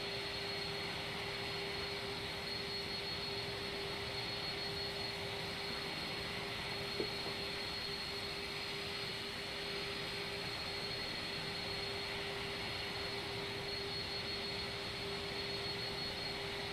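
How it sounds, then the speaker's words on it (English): Jet engine spooling up in Microsoft Flight Simulator 2020 during a first flight, a steady loud whine with a sustained tone over a broad roar, unbroken for about seventeen seconds without talk. "I can hear another jet spooling up."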